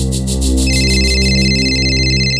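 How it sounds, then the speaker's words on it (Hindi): A phone rings steadily, a landline call with an electronic ringtone repeating in short bursts, loud and close, with a low steady hum beneath it and no voices. "आपका फोन बज रहा है"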